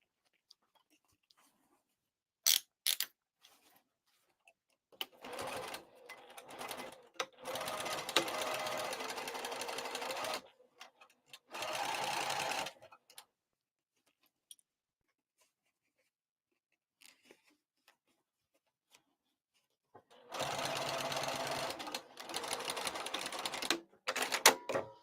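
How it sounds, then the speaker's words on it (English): A sewing machine base-stitches the exterior seam of a crossbody bag at a long stitch length, running in three separate bursts of steady mechanical whirring, with a few sharp clicks at the start and quiet pauses between runs. "So I will base stitch that, stitch length of a 6"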